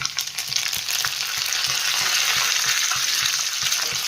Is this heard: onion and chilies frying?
yes